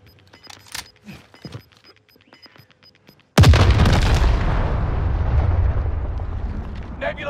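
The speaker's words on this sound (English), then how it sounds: "My bomb is about to blow." A massive bomb detonation in a shooter video game erupts abruptly into a loud, sustained rumbling roar that slowly decays, following quieter game sounds and radio-style voice callouts.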